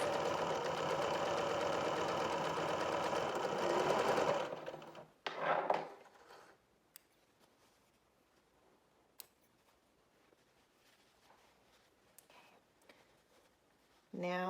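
Sewing machine running in a steady dense whir as it stitches sports bra cups, loud for about four seconds, then stopping; afterward near-silence with a few faint clicks and handling sounds.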